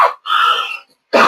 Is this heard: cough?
yes